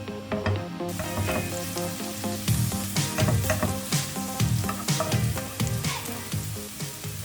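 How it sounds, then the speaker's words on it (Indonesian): Garlic and shallots fry in oil in a pan with a loud, continuous sizzle and crackle, broken by repeated stirring scrapes and spatula knocks throughout. "Oke, sekarang kita masukin bawang putih,"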